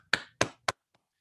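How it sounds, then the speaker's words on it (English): A few sharp hand claps ring out at a school board meeting to honor a retiring teacher. Three distinct claps come close together, followed by faint trailing taps. "So if you could join me in just acknowledging her, giving her a round of applause"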